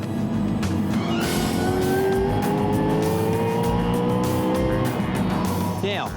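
A supercharged BMW M3 race car is driven hard at a time attack event, its engine roaring loudly and continuously with rising pitch sweeps as it accelerates, joined by tire squeal.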